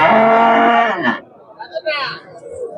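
A loud, drawn-out cow moo at a cattle market fills the first second, then fades into quieter background chatter and rustling, with a brief higher call near the end.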